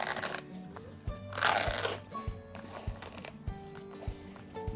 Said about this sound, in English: It's so satisfying peeling the peel ply back.